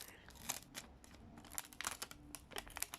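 A paper surprise packet crinkles and rustles as it is opened, a run of soft, close crackles and crumples at low volume, with no talking.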